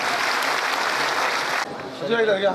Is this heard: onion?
no